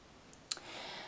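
A single sharp computer mouse click, quiet and close, stands alone against a faint background hiss.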